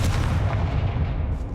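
A Confringo blasting spell is cast in Hogwarts Legacy, landing as a dense, booming explosive burst that holds heavy and loud through its short length without fading.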